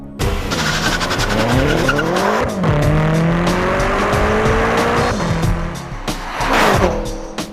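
A 2014 BMW M5 Competition Package sedan, a 4,400-pound car, accelerates hard with a loud engine roar rising through the gears, with tire squeal and brief pauses at the shifts, heard close up.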